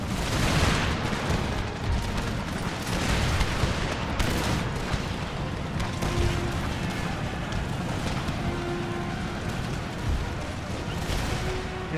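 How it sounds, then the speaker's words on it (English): Howitzer artillery fire in Empire Total War, a dense, continuous battle roar of booms and crackling gunfire that blends into one loud, unbroken wash of explosions throughout. "Okay, the howitzers engaging"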